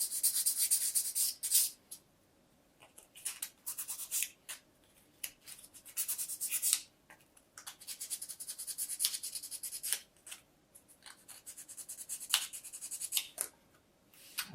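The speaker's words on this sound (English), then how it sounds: "I'm just using a really fine sand grade. Sandpaper is about 300 grade, and just remove them little tab marks." Fine 300-grit sandpaper rubs tab marks off a part of a 1/16 scale Artesania Latina Sopwith Camel model aircraft. The strokes come in close, dry bursts with short pauses between them and no talk.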